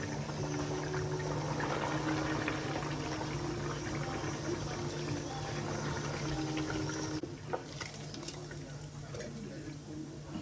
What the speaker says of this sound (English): Go ahead and fry my herrings.